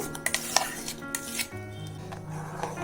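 A spoon stirs tender coconut payasam in a metal pot, with a string of sharp clinks and scrapes against the pot in quick succession, then softer rubbing.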